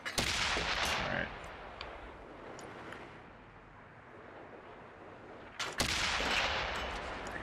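Heavy tank cannon fire in World of Tanks: Xbox One Edition, with the Object 140 and a T-54 in battle. A loud booming shot opens, a long rumbling tail decays, and a second powerful blast erupts near the end.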